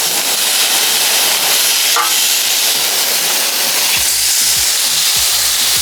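Pork chops sizzle on a Weber Go-Anywhere grill: a loud, steady, close hiss and crackle that fills the whole stretch without pause, with a few faint low knocks near the end and no voices.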